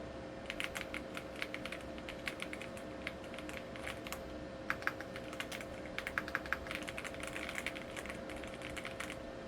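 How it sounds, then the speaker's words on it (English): Steady, fast typing on a Yunzii AL65 mechanical keyboard fitted with linear switches, a dense run of soft, close-up keystrokes clattering continuously with no talking. "everybody talks about that thwacky sound of a mechanical keyboard. This one is a little bit softer."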